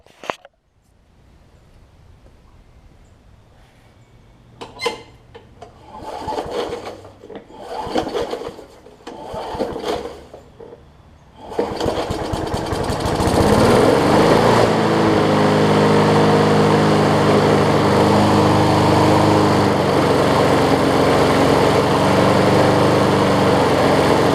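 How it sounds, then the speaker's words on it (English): An MTD push mower with a bad carburetor and heavy vibration is cranked with a few short pulls before the engine catches. It then runs steadily and loudly, close by, with a buzzing small-engine drone. "Let me crank it, see if it'll run for a long duration of time."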